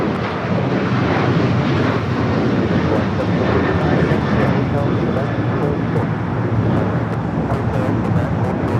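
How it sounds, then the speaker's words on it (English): An Emirates Airbus A380 at LAX gives off a steady, loud jet engine roar during pushback, with radio chatter and talking running over it throughout. "got the Emirates A380 Super now pushing it back"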